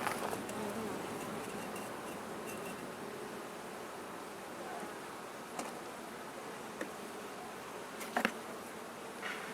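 Honey bees lift off together from a hive release, a steady buzzing swarm drone that holds at an even level throughout, with a few brief nearby knocks and rustles.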